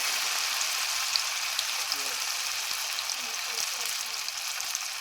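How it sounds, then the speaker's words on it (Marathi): Poha vada frying in hot oil, a steady even sizzle with soft faint crackles that holds for the whole stretch. "तेल चांगलं तापलेलं आहे. आपण आता याच्यामध्ये वडा सोडून घेऊया."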